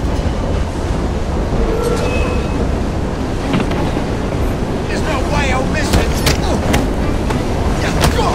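Train in the Assassin's Creed Syndicate video game, heard during a train-to-train fight: a steady rolling rumble with metallic clatter and brief squeals running continuously throughout.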